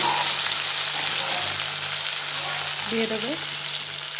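Chopped tomato goes into hot oil with frying onions, giving a loud, steady sizzle and crackle that fills the whole stretch, with a brief voice speaking faintly over it.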